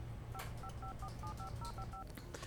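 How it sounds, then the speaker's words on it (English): A telephone's touch-tone keypad is dialed, a quick run of about ten two-tone beeps in an uneven rhythm, faint against a low hum. "And I did match the numbers to what she's dialing"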